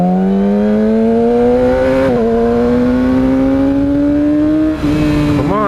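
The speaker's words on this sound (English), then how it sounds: "Ferrari." A Ferrari engine revs loudly and steadily close by in stop-and-go traffic, its pitch rising slowly and smoothly and then briefly shifting near the end.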